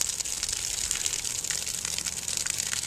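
Steady rushing gush of water from a rain barrel drawn by a shallow-source hand pump, continuous and fairly close with a faint rhythmic swell.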